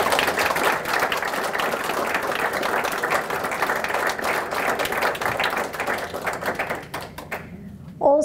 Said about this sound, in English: I would like to ask you for one more round of applause for our tremendous speakers.